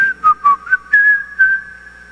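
A preacher whistles a calm, casual tune, imitating the devil whistling unconcerned; a clear, close single-voice whistle with short wavering notes and no talk over it.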